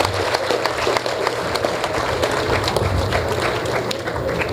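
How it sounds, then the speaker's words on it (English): Audience applauding for a government minister at an official event, dense sustained clapping with individual sharp claps standing out, loud and continuous with no speech over it. "Another round of applause for the Honorable Minister."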